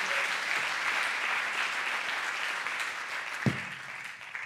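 An audience at an award ceremony keeps up continuous applause, a thick wash of clapping that eases slightly toward the end, with one sharp knock partway through.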